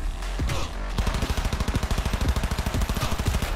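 Rapid automatic gunfire from the Cyberpunk 2077 video game, a loud, fast rhythmic burst of shots that continues steadily across the whole stretch after a brief opening shot, with no talk over it.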